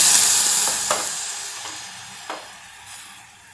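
Dried moth beans pour into a hot pan for chivda misal, an initial burst of hissing sizzle that gradually fades, punctuated by a few sharp scrapes and clinks.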